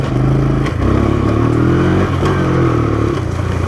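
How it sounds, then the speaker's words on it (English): A Sport Trax 90cc quad engine runs steadily and loud close up, with a strong revving drone that wavers slightly in pitch and a light mechanical clatter, no voices present. "This is a Sport Trax 90cc quad that I am riding on right"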